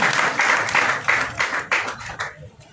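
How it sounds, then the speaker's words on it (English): Audience clapping for an elected National Unity Platform leader at a Karamoja gathering, coming in several short bursts of claps that fade and thin out toward the end. "I would like us to clap for him yet again."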